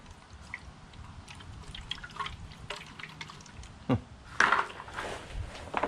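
Water drips and trickles out of a removed truck fog light housing, a series of close, small splashes and patters spread irregularly over several seconds, with a couple of louder sloshing bursts near the end and no talking.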